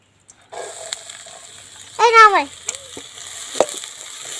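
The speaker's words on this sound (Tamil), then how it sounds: "இப்போ நம்ம வந்து வெங்காயத்தை போட்டுக்கலாம்" Onions go into butter in a pan for a homemade chicken burger, with a steady close sizzle of frying and a louder burst of hissing spatter partway through, plus scraping and a clink.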